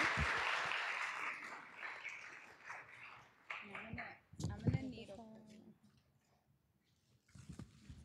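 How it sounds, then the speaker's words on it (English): Audience at a Latinx health policy summit applauding a panel moderator, clapping loudest at first and fading over several seconds, then scattered noises and a voice at the end. "So a big round of applause, please."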